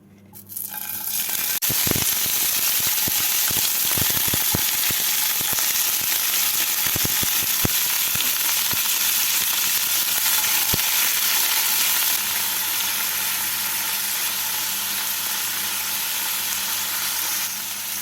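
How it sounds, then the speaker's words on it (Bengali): Paneer cubes and onion pieces fry in hot white oil in a pan with a loud, continuous sizzle that holds steady throughout, broken by a few sharp clinks early on, with no talk. "তেলটাকে ভালো করে গরম করে নিয়ে এর মধ্যে পনির আর টুকরো করা পেঁয়াজগুলোকে দিয়ে হালকা করে ভেজে তুলে নেব"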